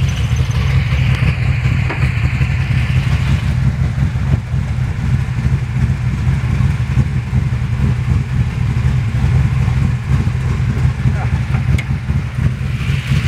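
A 1970 Chevelle with a 408 stroker V8 idles steadily nearby with a low, loping rumble, while a person talks over the engine.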